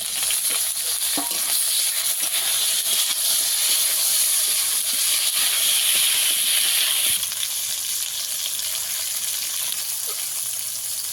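Chopped tomatoes go into a hot pan with ginger and cumin, giving a steady, close sizzle and hiss of frying with faint stirring scrapes throughout, no voices.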